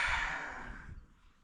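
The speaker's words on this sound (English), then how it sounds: "Now exhale it." A single deep breath pushed out during a breathing exercise, a breathy whoosh that fades over about a second.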